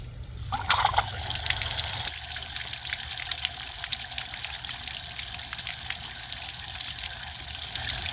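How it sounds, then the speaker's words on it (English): Water running steadily through flushing muffs on a 1972 Johnson 9.5 outboard motor, a continuous close trickling rush that swells slightly after the first second and holds unbroken, with no voices. "We'll just turn the water up a little bit and see if she does any cooling circulation."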